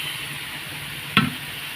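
Chicken pieces dropped into hot oil already fried down with spices and green chilli for chicken kasha: one short, sharp sizzling splash rises over a low, steady kitchen hum.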